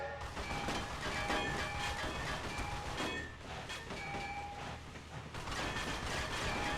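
Train running on the tracks in The Outfit video game: a close, loud, continuous rumble of rolling wheels with rhythmic clacking and metallic squeals throughout.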